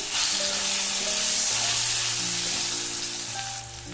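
Long-cut potato and eggplant pieces frying in oil in a pan with turmeric, giving a steady, close, continuous sizzle and crackle that fades a little toward the end, with no voices.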